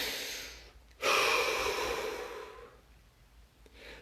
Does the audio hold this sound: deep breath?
yes